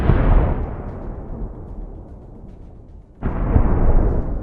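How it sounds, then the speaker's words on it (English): A Russian tank struck by a Ukrainian drone explodes with a loud, broad roar that slowly fades into a rumbling tail, then a second heavy blast erupts near the end, close and powerful, with no voices. "An explosion of incredible force."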